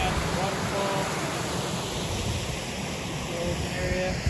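A waterfall at a rocky bass-fishing spot produces a constant loud rushing hiss of falling water, even and unbroken throughout, with a few faint brief tones drifting over it.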